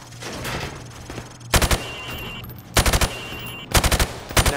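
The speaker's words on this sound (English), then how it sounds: "Now, shoot at the targets while firing from the hip." Rifle hip-fire at targets on a firing range in Call of Duty Modern Warfare Remastered: three or four loud bursts of rapid automatic shots, separated by pauses over a low background hum.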